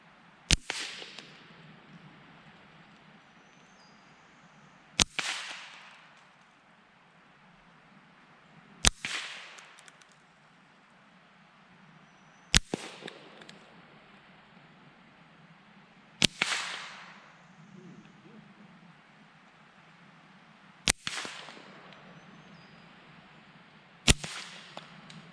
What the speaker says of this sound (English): I am going to plink on some shotgun shells